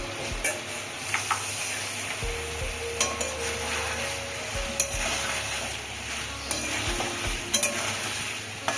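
Cumin, turmeric and chilli powder being fried and stirred in a pan, a steady close sizzle with scraping stir strokes and light clinks throughout, no talking.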